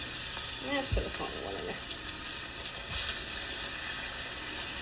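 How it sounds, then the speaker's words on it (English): Short ribs sear in an oven-safe pot with a constant, even frying hiss, and a voice speaks briefly over it near the start. "we are going to sear all sides of the short ribs"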